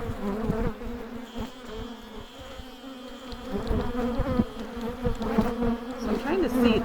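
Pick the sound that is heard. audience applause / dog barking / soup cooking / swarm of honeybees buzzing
swarm of honeybees buzzing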